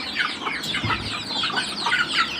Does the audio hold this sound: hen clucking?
yes